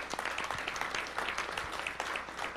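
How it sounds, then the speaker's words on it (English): Audience applause, a lively crowd clapping with distinct individual claps audible in the mix, fairly close and steady, at moderate volume. "This man deserves a round of applause."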